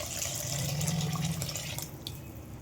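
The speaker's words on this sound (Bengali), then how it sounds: "এবার আমি এতে পরিমাণ মতো জল দিয়ে দেবো" Water is poured into a pan holding soy sauce for a homemade chilli fish, a steady close splash and trickle running for a couple of seconds before thinning out.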